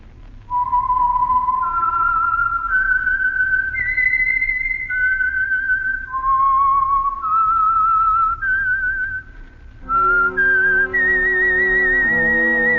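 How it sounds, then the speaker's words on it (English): A lone whistled melody serves as the signature tune of the Signal Oil radio program The Whistler, a rising and falling series of clear notes with echoing reverb, joined near the end by a swelling orchestral chord. "the signal to listen for is this whistle that identifies the Signal Oil program"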